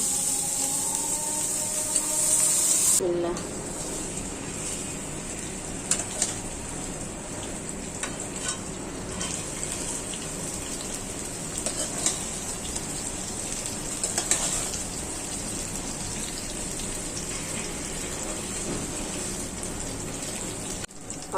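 Onions fry in hot oil in a pan, a dense, steady crackling sizzle that runs from start to finish, with an abrupt shift after the opening seconds.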